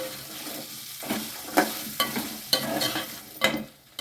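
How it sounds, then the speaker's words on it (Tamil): Small onions sizzle and fry in a pan as a spoon stirs them in several distinct scraping strokes, close and moderately loud, with a steady hiss underneath and no talking. "நான் சின்ன வெங்காயமும் போட்டுக்கிறேன். கொஞ்சம் நேரம் ஃப்ரையாக இருக்கும்."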